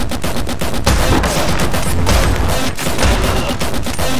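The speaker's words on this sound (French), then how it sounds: "Un fusil à pompe là, 4 balles hein" Rapid, loud gunfire in a video game, with a pump-action shotgun among the weapons, fires as a dense barrage of sharp blasts packed close together for several seconds.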